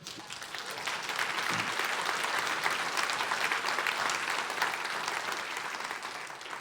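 An audience applauds steadily for several seconds, the clapping swelling quickly and fading slightly near the end.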